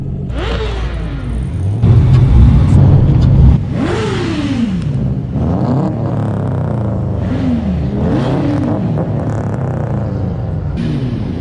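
A Nissan Skyline R33 GTS-t with its RB25 engine revs repeatedly at a car meet, the engine note swooping up and down in several sharp pulls over a steady idle rumble, close and loud.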